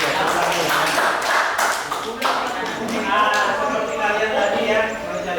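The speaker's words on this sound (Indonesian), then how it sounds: "Nah, tepuk tangan dulu." Students in a vocational school classroom clap their hands, a loose burst of individual claps that is sharp at first and then thins into scattered taps while a voice talks over them.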